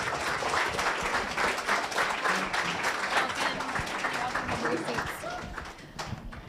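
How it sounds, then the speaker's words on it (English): Audience applause for the projects at a kids' innovation challenge, a room of people clapping steadily for several seconds before it thins out, with voices mixed in underneath. "Big round of applause."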